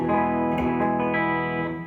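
A Collings I30LC electric guitar on its bridge pickup rings out a sustained chord with a bright, clean tone, fading slowly without added effects.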